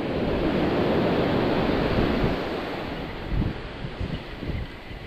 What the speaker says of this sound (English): All right, here's the waves.